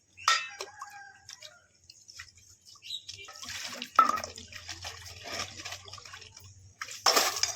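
Water is poured and splashed into a large utensil for washing dishes, coming in a few short, separate gushes and splashes with quiet gaps and faint clatter between them, heard close by.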